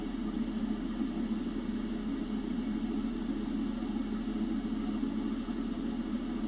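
An Eachine 210 V-Tail FPV drone lifts off, its motors giving a steady mid-pitched droning hum that stays even and constant from start to finish.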